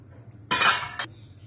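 A utensil stirs ground fenugreek, ajwain and spices into a cheela batter in a bowl, making a short, bright scraping clatter of about half a second, then a quick final tap, close up with no talking.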